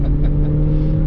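Haval H6 GT engine heard from inside the car during a test drive, a steady loud mid-range drone as it pulls through a gear change with a dual-clutch gearbox.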